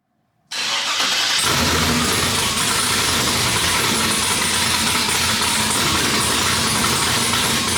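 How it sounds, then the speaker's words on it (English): A 1973 Chevrolet Nova LS-swap engine bursts to life after a short crank, then settles into a loud, steady running roar close by with no talking. "Let's get this car cranked up and get these wheels turning."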